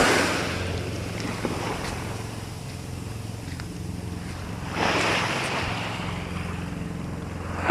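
Sea waves wash onto the shore at the seaside, a steady broad roar of surf with wind, swelling into a louder rush of breaking water partway through.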